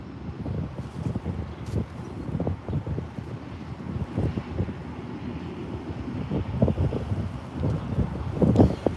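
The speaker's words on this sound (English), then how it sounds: "Straight headwind though, so." A strong straight headwind of about 25 mph buffets the microphone on a disc golf course, with rough, gusty low rumbling that comes in uneven bursts and gets heavier toward the end. No one speaks.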